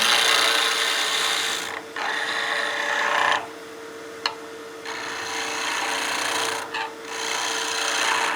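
Skew chisel cutting a spinning wood workpiece on a lathe while turning a bat house ornament, a continuous close, hissing scrape broken by a few brief pauses.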